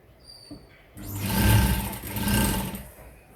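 A sewing machine runs a short burst of stitching along a seam on a katori blouse, its motor whirring steadily for about two seconds after a quiet start, then slowing and stopping.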